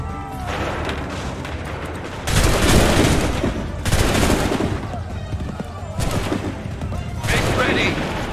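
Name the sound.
musket volley gunfire in Assassin's Creed III video game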